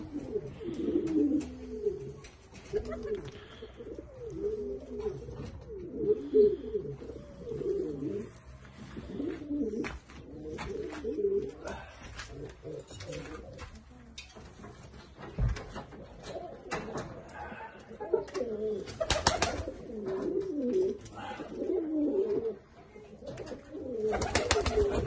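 Pigeons in a pigeon loft coo in soft, low, rolling phrases that repeat throughout, close and moderately quiet, with scattered rustles and clicks of birds moving about.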